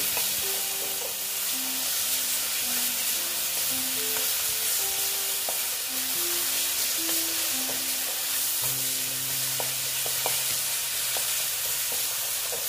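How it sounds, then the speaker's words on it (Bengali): Grated tomato sizzles steadily in a hot pan for an egg and potato curry, with a constant close frying hiss and occasional stirring scrapes; tonal background music plays under it throughout. "দিয়ে টমেটোটা এটার সঙ্গে ভালো মতন কষিয়ে নেব"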